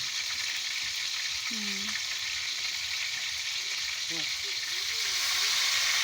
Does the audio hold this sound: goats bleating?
no